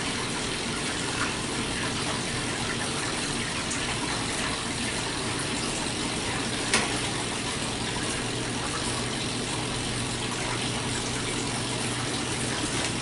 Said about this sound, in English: You just hear the water falling in the sink.